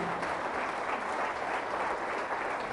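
A church congregation applauds loudly and steadily during a Catholic Mass, a dense, even wash of clapping hands filling the space with no voices over it.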